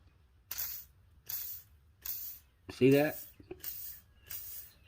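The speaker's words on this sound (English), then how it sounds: "Now when we spray this WD-40 through there, we should get a stream." Repeated short bursts of aerosol spray hiss in a steady rhythm, about six sprays, with a brief spoken remark between them.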